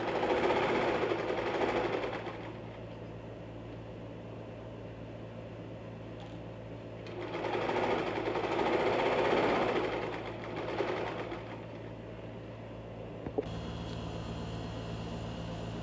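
Sewing machine stitching a fabric chair cover, running in two steady whirring bursts of a couple of seconds each with quiet pauses between, close and fairly loud with no talk.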